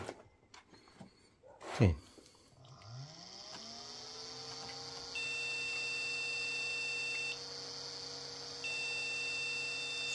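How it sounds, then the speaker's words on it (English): A vintage mini Pentium PC that fails to boot sounds its beep codes. A clunk and low mains hum give way to long, steady, piercing tones that stop and restart. "Still lots of beeps."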